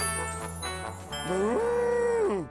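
A cartoon cow in a children's animated show gives one long, loud moo that rises and then falls away, coming after a short stretch of music.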